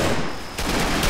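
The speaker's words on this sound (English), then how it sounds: "heavy machine gun team" A heavy machine gun team fires in the Combat Mission Battle for Normandy war game, a dense, loud burst of rapid shots heard on its own for about a second.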